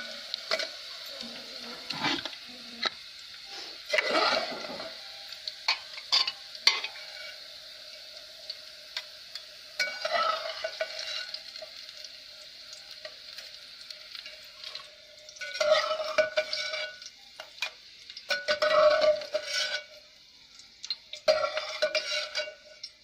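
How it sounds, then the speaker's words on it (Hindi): Fried okra being stirred into lentil dal in a pot, with intermittent bursts of scraping and gentle sizzling from a spoon, separated by quieter pauses and a faint steady hiss, close by. "फ्राई की हुई भिंडी को दाल के अंदर मिलाया जाएगा"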